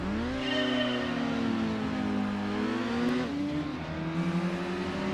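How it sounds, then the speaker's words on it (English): Race car engine in Gran Turismo 2 on the Super Speedway, a steady buzzing drone that climbs in pitch, drops at a gear change and climbs again, moderately loud and alone. "A car that actually moves up the revs."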